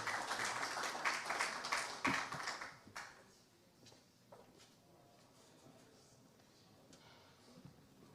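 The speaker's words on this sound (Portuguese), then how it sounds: "Uma salva de palmas, por favor" Church congregation applauding a visiting pastor being welcomed to the stage: a dense wash of clapping for about three seconds, then fading quickly to a faint, quiet room with a few scattered sounds.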